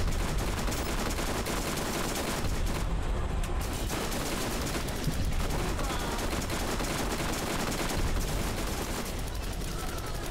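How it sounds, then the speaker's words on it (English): Automated turret firing in the video game Borderlands on Pandora, a dense, continuous burst of gunfire with explosive crackle lasting throughout, loud and busy with overlapping combat noise. "Okay, deployed the turret."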